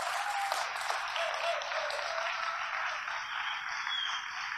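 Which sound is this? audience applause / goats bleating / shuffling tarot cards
audience applause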